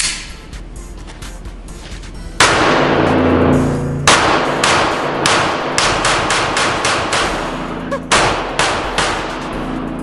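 Springfield Armory Hellcat .380 pocket pistol fired at a range, a run of loud sharp shots with uneven spacing, about eight reports in ten seconds, each ringing out with a short echo tail.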